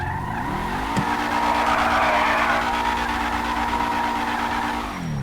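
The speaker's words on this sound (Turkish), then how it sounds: "Bak şimdi bu arabamın sesine bak bak bak. Motor sesine bak şimdi iyi dinle bak." Loud, steady engine drone with a high whine and tire screech, a drift car held at high revs in GTA 5, no talking.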